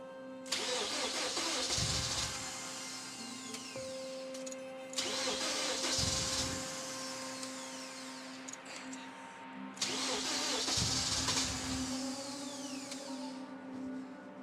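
A big engine crammed into a small car cranks and fires in three loud, close attempts, each catching and then revving or settling into a rough idle before dropping off.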